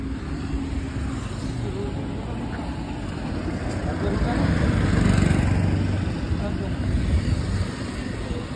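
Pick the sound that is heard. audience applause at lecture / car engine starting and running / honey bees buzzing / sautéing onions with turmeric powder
car engine starting and running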